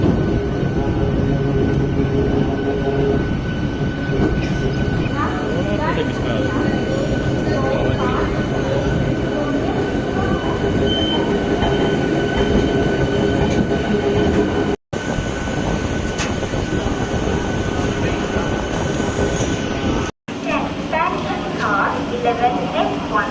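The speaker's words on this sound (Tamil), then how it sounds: "ஸோ இந்த ட்ரெயின் பார்த்தீங்கன்னா இப்போ பிளாட்ஃபார்ம் 3ல் வருது." A Chennai-area MEMU electric train pulls in at platform 3 of a railway station, a loud continuous rumble of rolling carriages with wheel hum, squeal and clatter, while voices and station noise carry on underneath.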